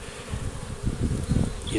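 A close, busy buzzing of many honeybees flying into a hive, a dense droning hum with individual wingbeats pulsing in and out.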